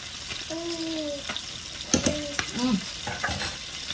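Fish fries in a pan until crispy, a close steady sizzle with a few scraping stirs and clattering turns of a spatula partway through, no speech.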